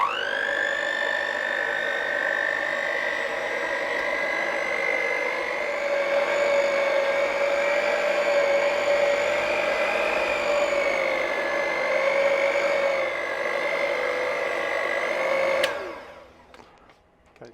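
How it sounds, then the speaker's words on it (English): An electric mixer whirring through cake batter in a tiny house kitchen, a steady close high-pitched motor whine that holds for about fifteen seconds and then cuts off abruptly, with no talking. "I'm actually using an electric mixer."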